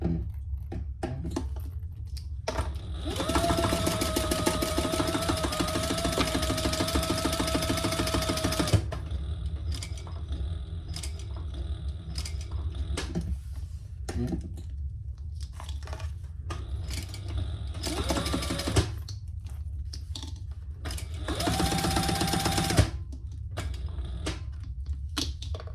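A sewing machine stitches a small leather wallet in two long bursts of steady, rapid stitching, stopping between runs, then a short final burst as it backstitches; close and loud, with no talking.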